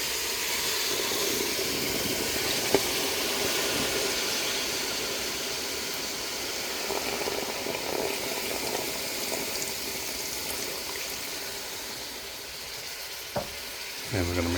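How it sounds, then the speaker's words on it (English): Canned yam juice poured into a pan over caramelized sugar, giving a steady sizzling, bubbling wash of liquid that runs throughout, with a few soft clinks near the end. "the juice from the can of yams."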